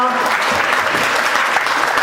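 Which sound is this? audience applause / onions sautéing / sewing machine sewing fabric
audience applause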